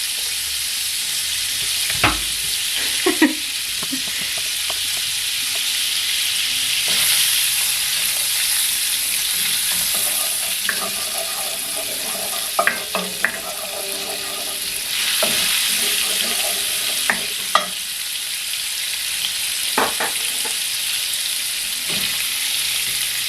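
Carrots and herbs sizzle steadily in a frying pan for a sausage stuffing, a continuous close hiss and crackle with occasional stirring clinks and scrapes.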